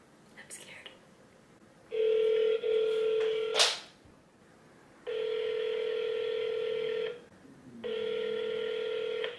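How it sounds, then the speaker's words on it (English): A touch-tone telephone number being dialed, with several long steady DTMF tones. A sharp swishing sound and faint background noise come between the tones. "Let's call the number right now."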